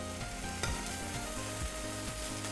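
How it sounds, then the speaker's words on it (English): Grilled cheese sandwich frying in butter in a hot pan, a steady close sizzle with continuous crackle throughout, no voices. "I can start to hear it, like the butter start to sizzle a little bit"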